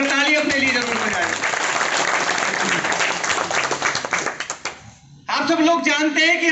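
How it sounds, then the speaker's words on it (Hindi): Audience at an Aam Aadmi Party political gathering breaks into sustained clapping under a speaker's amplified voice, fading briefly before the speaker resumes loudly. "एक बार ताली अपने लिए जरूर बजाएं।"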